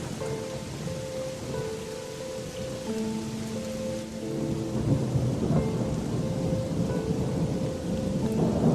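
Heavy rain pours steadily with rolling thunder rumbling throughout, the downpour building louder in the second half, no voices present.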